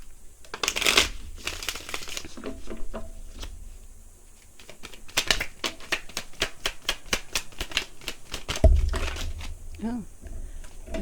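Tarot cards shuffled in rapid crisp riffles and flicks, a dense run of sharp paper snaps with several cards spilling loose, close and fairly quiet, with a voice talking in places.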